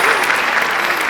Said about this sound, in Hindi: यहाँ बैठे सारे सुस्त लोग तालियां बजाओ